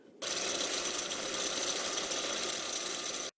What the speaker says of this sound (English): Now I gotta drill a hole in there.